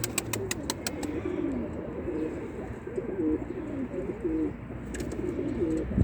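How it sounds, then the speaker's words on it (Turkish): Soft, repeated cooing of pigeons, among them a stray blue pigeon, rolls along nearby over a low background hum, with a few sharp clicks near the start and again later. "Bir tane kaçak mavi geldi şimdi. Kuşların arasına."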